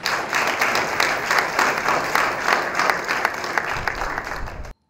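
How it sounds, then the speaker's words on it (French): A cinema club audience applauds the screenwriter-director after a screening of the cult film Muna Moto, a sustained, lively round of clapping that stops abruptly at the end. "Encore une fois, applaudissons pour lui, pour ce film culte."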